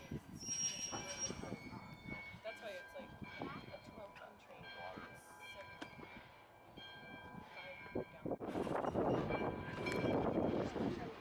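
Nevada Northern Railway cars back slowly through the yard with squealing wheels, clanks and creaks, growing louder near the end, while a voice talks over the movement.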